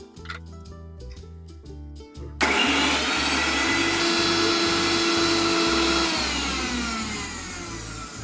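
A kitchen mixer grinder whirs loudly as it grinds ginger, garlic and green chillies into a paste, starting abruptly after a short musical lead-in and running steadily at close range until the end.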